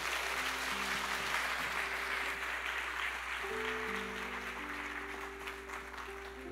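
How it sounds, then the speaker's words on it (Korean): A church congregation at Sunday worship claps steadily to welcome the pastor to the pulpit, broad sustained applause over a low organ or keyboard drone that holds beneath it. "우리 박수로 청해서 모시도록 하겠습니다."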